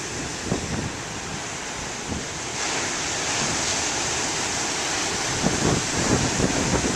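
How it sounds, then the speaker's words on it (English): Moderate ocean waves break on a beach in a steady, loud wash of surf, swelling slightly louder midway with repeated crashing surges and no voices. "The waves are really big."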